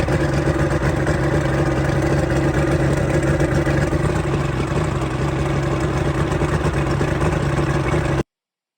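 A Mercury outboard motor runs steadily at a constant idle-like pitch, loud and close, with no voices over it.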